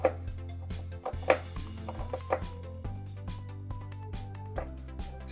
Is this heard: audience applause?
no